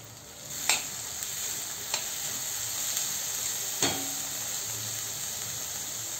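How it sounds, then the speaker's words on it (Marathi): Chopped vegetables with finely cut carrot sauté in oil for a bharit veg cheese bite, making a soft continuous sizzle with a few distinct spatula taps and scrapes against the pan. "आता हे सगळ्या भाज्या छान आपण तेलामध्ये परतून घेऊया"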